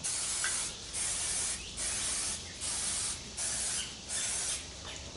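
Several short bursts of aerosol non-stick cooking spray hiss in a regular rhythm, each lasting about half a second, close up with brief pauses between.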